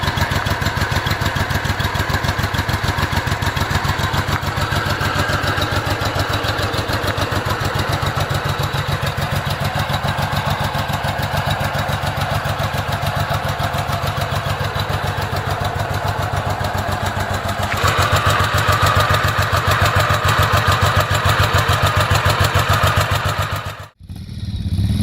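A heavy motorcycle with a 19.5-litre tank idles steadily for a long stretch, a close, even, rhythmic mechanical throb with light clatter. The engine cuts out briefly near the end before resuming.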